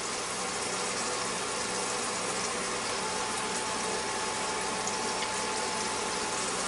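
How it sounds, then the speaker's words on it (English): Eggs fry in a pan on a Copper Chef induction cooktop, giving a steady, even sizzle that holds without a break and sits close and fairly soft. "just looks like it's still frying away"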